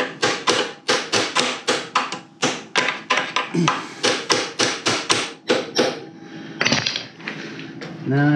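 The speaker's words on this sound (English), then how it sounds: "I'm gonna see if I can't hammer those out." Sharp metallic hammer strikes ring out in quick bursts while parts are hammered out of a generator during stator and rotor removal, over a dozen blows with short pauses, close and loud.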